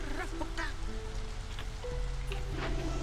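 Drizzling rain in the video game Against the Storm, a steady pattering hiss with game music tones and interface sounds layered over it.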